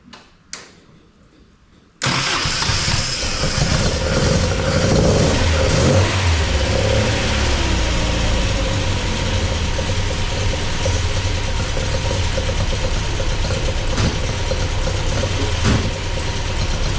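An MGB car engine with 45DCOE carburettors, freshly rebuilt and not running quite right, cranks and catches after a short quiet pause, then runs steadily at a loud, rough idle with a low rumbling drone.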